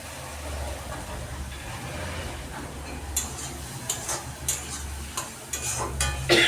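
Fried pointed gourd being stir-fried with poppy and mustard paste in a pan, a low steady sizzle with a hum underneath and, later, repeated scraping strokes of a spatula.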